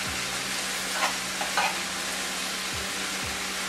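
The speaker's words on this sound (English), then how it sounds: "while the butter is melting" Butter melting and sizzling in a frying pan, a steady loud hiss that runs throughout, with a few light stirring scrapes and clinks.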